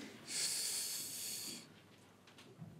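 A room full of conference audience members at a tech summit inhaling together, a soft, breathy hiss that swells for about a second and then fades into quiet.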